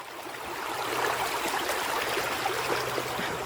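Shallow creek water flows steadily over rocks, a close, continuous babbling wash with no voices.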